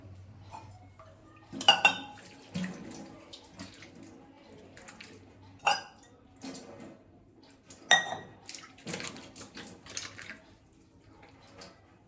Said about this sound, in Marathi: मी हात धुवून घेते आता.